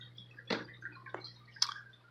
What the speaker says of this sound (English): there's my water going in. It just runs all the time